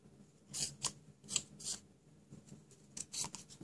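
Scissors snip through card stock for a handmade Stampin' Up! shabby chic thank you card, a series of crisp, close cuts in uneven bursts with short pauses between them.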